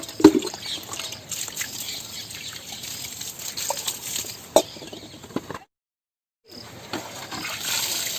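Water sprinkled over a layer of cow dung and waste in a compost pile: a continuous light splattering trickle with occasional louder splashes, pausing briefly near the end before resuming.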